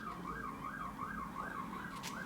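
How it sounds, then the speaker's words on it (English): Emergency vehicle siren wailing outside, a steady rising and falling tone repeating about every third of a second, moderately distant and continuous over faint room background. "I'm very distracted by the sirens outside."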